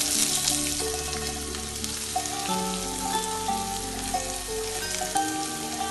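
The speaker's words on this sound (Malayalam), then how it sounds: "ഒരു പാൻ വെച്ച് ഇതിലേക്ക് ഓയിലൊഴിച്ച് ഉള്ളി ഇട്ട് കൊടുക്കാം" Onions fry in oil in a pan, a steady close crackle and sizzle that runs for several seconds under a background of sustained music, with no talk.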